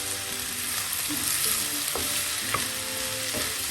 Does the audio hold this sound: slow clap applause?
no